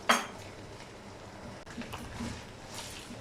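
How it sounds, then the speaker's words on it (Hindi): Ginger-garlic paste and chicken are fried in a pan, opening with a sharp metallic clank of utensil on pan, followed by quiet scraping stirs over a low sizzle. "अब इसमें अदरक लहसुन का पेस्ट डाल देते हैं। इसे मज़ीद 1 मिनट के लिए भून लेंगे।"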